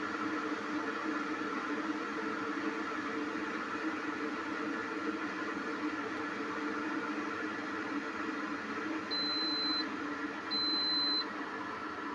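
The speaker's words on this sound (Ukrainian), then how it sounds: "Чуємо пищить і знову вимкнувся чайник." Two short electronic beeps sound over a steady low hum, followed by a soft click as a Laretti LR-7500 electric kettle shuts off.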